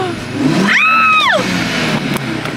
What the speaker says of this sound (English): my car actually let me rev in neutral now.